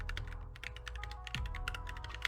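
Typing on a GMMK2 96% mechanical keyboard produces a fast, steady stream of crisp clacking keystrokes, close and clear, over a low background hum.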